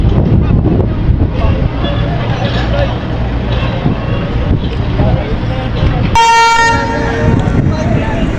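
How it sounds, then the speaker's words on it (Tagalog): A passenger ship's horn blasts loud and close, a rich harmonic tone lasting about two seconds, cutting through wind buffeting and people talking on a crowded deck. "Lakas ng busina eh."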